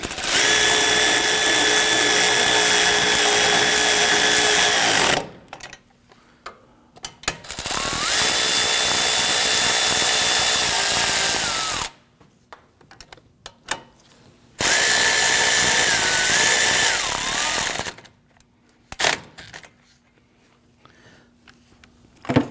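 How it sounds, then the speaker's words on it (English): A power ratchet with a 3/8-inch short extension and an 18 mm socket runs in the front wheel hub bolts on a 2010-2019 Ford Taurus. It gives three loud, close whirring bursts of several seconds each, separated by quieter pauses with small clicks. "I just switched over to my ratchet with the 3/8 short extension and an 18 mil socket, and I'm just going to run those bolts in."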